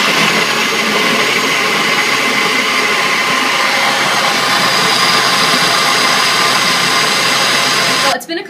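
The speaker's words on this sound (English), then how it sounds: "I'm going to blend this up real quick" A blender whirs loudly and steadily, blending a flan mixture for several seconds before cutting off abruptly near the end.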